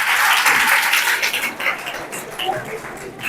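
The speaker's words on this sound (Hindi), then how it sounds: "बच्चों एक बार जोरदार तालियों का स्वागत करेंगे प्रिंस सर का" Children clap together in a burst of applause to welcome a guest, loud and dense at first, then thinning out and fading over the final seconds.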